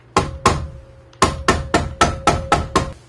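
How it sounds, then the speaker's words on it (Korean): A hammer pounds a thick, overlapped leather jacket seam flat before sewing: nine sharp, close knocks, two spaced strikes, then a quicker even run of seven. "망치질로 한 번씩 때려주면 좋습니다"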